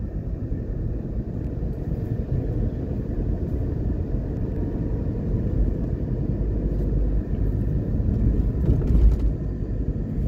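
A car drives along the finished Barbican Road in Kingston, Jamaica, giving a steady, loud low rumble of engine and tyre noise that holds throughout with no talk.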